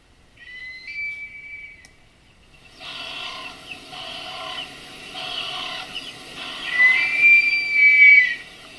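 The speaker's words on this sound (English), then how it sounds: "So what does this eagle sound like?" A recorded Wahlberg's eagle calls: a thin high whistle, then after a pause a series of four or five rising, whistle-like phrases played back loudly on a speaker, with no talk over them.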